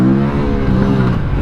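A 2025 Aprilia Tuono 457 motorcycle engine held high near its rev limiter, a loud, close, steady buzzing drone with slight wavering pitch throughout.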